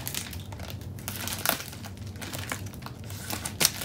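Plastic wrapping on a new Janome HD9 sewing machine crinkles and rustles continuously up close, with a few sharper crackles as it is handled.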